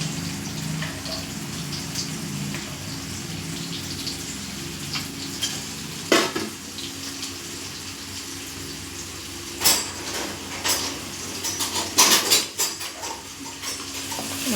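Bay leaf and mint dropped into hot oil for pooris, giving a steady frying hiss with occasional clinks of a utensil against the pan, several clustered toward the end.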